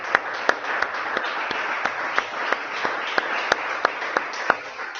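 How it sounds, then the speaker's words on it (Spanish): A church congregation claps during a morning service, with a steady wash of applause and sharp individual claps standing out at a regular rhythm throughout. "vamos a darle un aplauso al Espíritu de Dios en esta mañana"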